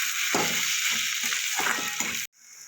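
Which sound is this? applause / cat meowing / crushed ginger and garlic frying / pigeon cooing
crushed ginger and garlic frying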